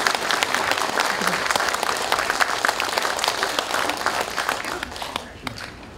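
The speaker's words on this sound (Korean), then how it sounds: "두 분께 큰 박수 한번 보내주십시오." Audience applause fills a Korean police veterans' association general assembly hall, steady dense clapping from a large crowd that holds for several seconds before thinning near the end.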